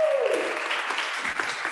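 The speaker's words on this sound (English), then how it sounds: "Can we get a round of applause for Solange, please?" An audience at an outdoor climate vigil claps steadily in a dense, even wash of applause, moderately loud, with a brief voice trailing off at the very start.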